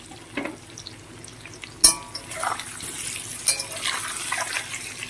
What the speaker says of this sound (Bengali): অল্প একটু হলুদ নুন দিয়ে একটু ভালো করে নাড়াচাড়া করে দেবো